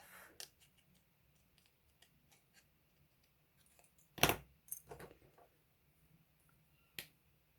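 Scissors snipping paper while making a Stampin' Up! interactive thank-you card, a few sharp close cuts with one loud snip midway and quiet handling noise between.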